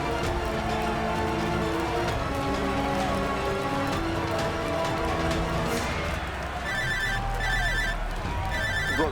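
A phone ringtone sounds in a tense drama scene, repeating electronic ring bursts in the last few seconds over a dense background of music and rain-like noise.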